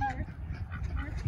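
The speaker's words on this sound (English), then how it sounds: "It's just ducks and geese. You don't have anything. They'll just squawk at you." Ducks and geese honking and squawking outdoors on a cold Thanksgiving day in Wichita, a short faint burst of nasal calls at a moderate distance with low background rumble.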